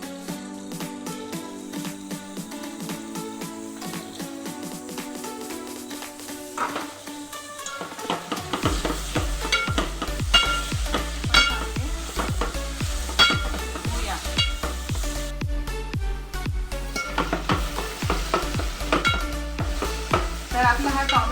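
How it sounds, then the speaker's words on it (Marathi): Onions and tomatoes frying in a pan for misal, sizzling steadily with repeated spoon scrapes and stirring taps, and a louder hiss once the tomatoes go in partway through; up close, with no talking. "यात आपण लगेच टोमॅटो टाकून घेऊया आणि टोमॅटो पण चांगले शिजून देऊया।"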